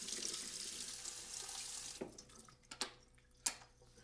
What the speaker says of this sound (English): It's still a good idea to give quinoa a rinse before you cook it.